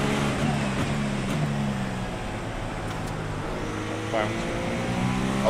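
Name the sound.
car engine bouncing on the rev limiter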